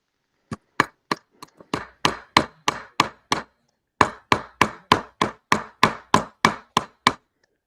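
A metal hammer strikes rivets set on a metal plate in about twenty sharp, evenly spaced taps, a short pause splitting two quick runs, close and crisp with no speech.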